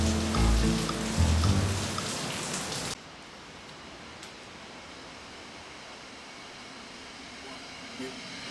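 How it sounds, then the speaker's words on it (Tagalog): Steady rain falls in a continuous, even hiss that carries on alone after a louder burst of other sound at the start, with no clear voices over it. "Sa kasalukuyan, umuulan yan."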